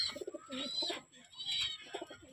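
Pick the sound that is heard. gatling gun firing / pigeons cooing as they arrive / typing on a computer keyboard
pigeons cooing as they arrive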